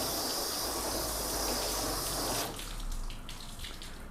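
Water runs loud and steady onto sealant-coated car test panels. Partway through it drops to a lighter splatter and trickle, and no voices are heard.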